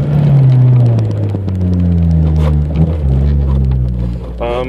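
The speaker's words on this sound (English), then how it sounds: "But the muffler is a Ractive, I believe that's how you pronounce it." Exhaust of a 1991 Honda Civic with a throttle-body injected 1.5 liter non-VTEC engine, no catalytic converter and a large Ractive muffler, giving a deep, close rumble whose pitch slowly drops as the revs settle.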